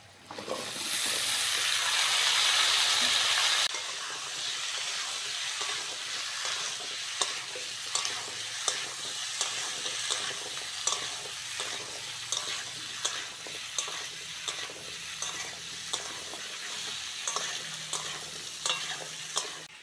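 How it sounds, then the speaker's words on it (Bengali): Chopped taro and potato are added to hot oil with fried onions, opening with a loud hissing burst that settles into a steady sizzle, then repeated close scrapes and clinks of a spatula stirring in a rhythmic pattern. "কচু যত ভালো করে ভাজবো কচুটা তত ভালোভাবে সিদ্ধ হবে"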